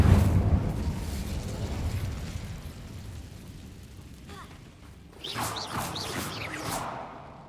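Fire spell cast in the Hogwarts Legacy video game: a loud whooshing burst with crackling debris up front, easing into a steady roar, then a second bright burst of magical effects near the end.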